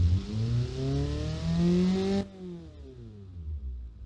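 A simulated car engine in the Automation building game revs with a rising, buzzing tone and then cuts off abruptly, dropping to a lower, quieter idle drone.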